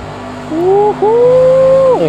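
A Mercedes-AMG GT3 race car engine in Project Cars 2 at full throttle, loud and close, with a strong tone climbing through one gear, briefly dropping at a shift, then rising again.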